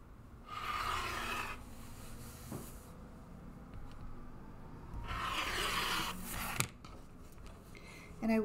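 Fabric for a planner cover gets trimmed with a rotary or rasping cutter in two drawn-out scraping strokes, faint and close, with small clicks and handling noises between them.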